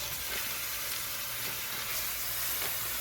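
Ground beef browning in a pan for sloppy joes gives off a loud, steady sizzle that holds without a break from start to finish, with no voices over it.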